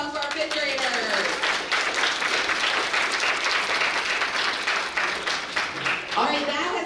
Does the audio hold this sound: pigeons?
no